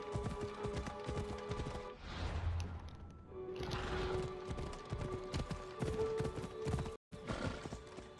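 A horse gallops in Assassin's Creed Odyssey, with rapid rhythmic hoofbeats amid game sound effects, a whooshing burst in the middle and a brief dropout near the end.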